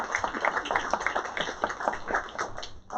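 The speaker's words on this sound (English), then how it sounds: "So let's give her a round of applause." A small audience at an early learning press conference claps for a child's mother, with distinct rhythmic hand claps close by that taper off near the end.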